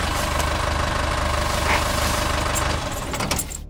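A safari jeep's engine runs at a steady idle close by, a continuous low rumbling throb with faint knocking, easing slightly toward the end.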